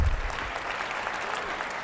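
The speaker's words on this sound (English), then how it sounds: "How about another quick round of applause for Mayor Bibb?" Audience applause during the 2024 Cleveland State of the City address, a dense steady round of clapping from a large indoor crowd, brief and fairly loud with no voices over it.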